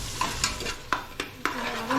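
Tomatoes sizzle in a pan for chicken biryani while a spoon stirs them, several sharp scraping strokes over a soft continuous fry, close and fairly quiet.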